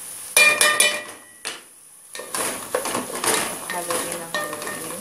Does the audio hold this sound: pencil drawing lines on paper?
no